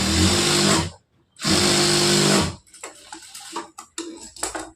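Sewing machine stitching blouse fabric in two loud, steady whirring runs of about a second each, separated by a brief pause, then followed by lighter handling clicks and taps.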